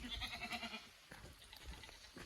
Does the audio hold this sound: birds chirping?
no